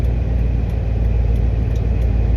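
Inside the cab of a new box truck, the engine makes a steady, loud low rumble with a constant droning hum and no change in pitch, and nobody talks.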